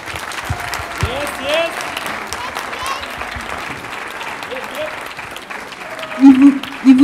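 Audience at a hip-hop generations forum applauding four guests, a steady wash of clapping with voices mixed in and a couple of louder bursts near the end.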